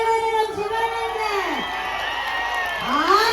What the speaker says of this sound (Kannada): ಎತ್ತಿನ ಚಪ್ಪಾಳೆ ನಮ್ಮ ಶಿವಣ್ಣಗೆ.